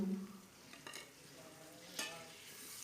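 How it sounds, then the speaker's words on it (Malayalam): Onion and tomato sizzling in a frying pan for fish biriyani, stirred with a spoon that gives a few soft scraping strokes over a steady, quiet frying hiss. "ഒന്ന് ഇളക്കി കൊടുക്കാം"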